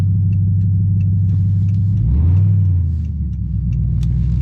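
A 2012 Dodge Charger R/T with all-wheel drive rumbles in a deep, steady drone at close range inside traffic. Around the midpoint a short surge rises in pitch as the throttle opens, then the engine settles back to its low hum, with no speech.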